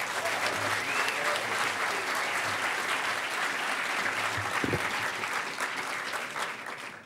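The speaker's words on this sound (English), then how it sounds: "Give him a huge round of applause" The audience at the Hackers On Planet Earth closing ceremony claps loudly in a long, continuous burst of applause that holds steady before tapering off near the end.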